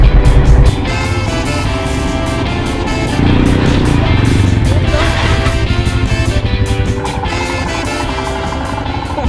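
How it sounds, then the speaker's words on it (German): Royal Enfield Himalayan at enduro training: its engine burbles loudly and steadily at idle close by, with a brief blip at the start and a rise midway, no talk. "Die Himalayan scheint die Aufregung zu teilen, während der Motor im Leerlauf sanft blubbert."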